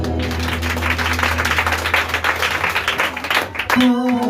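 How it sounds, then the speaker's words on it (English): A church congregation at a Sunday service claps hands together in a dense, continuous patter under music, with a sustained tone entering near the end. "Clap your hands and sit down."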